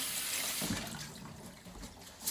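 Running water from a tap pouring over rice in a strainer during rinsing, a steady soft splashing wash heard close but faint, with no talk.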